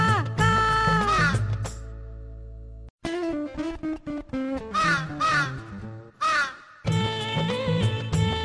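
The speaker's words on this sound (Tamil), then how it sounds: "கா காவென கரையுது பார் கருப்பு நிறக்காகம்" Repeated crow caws are voiced by a singer over a bright musical backing in a Tamil children's rhyme, loud and rhythmic with brief pauses between phrases.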